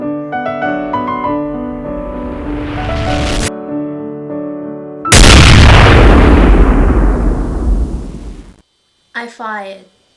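After a stretch of music, a single loud gunshot sound effect erupts as a massive blast with a long, roaring tail that fades away, followed by a short spoken phrase in a poem reading about shooting a wounded barn owl.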